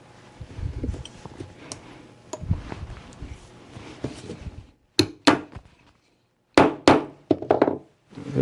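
Hammer blows driving a bushing out of a hole in a workshop, first a stretch of softer tapping and rumble, then several sharp, loud, close strikes with short silent gaps between them.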